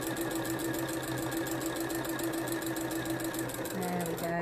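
A sewing machine with a walking foot and the needle set to position five stitches boiled wool, giving a steady, fast, even run of needle beats that stays close and continuous throughout.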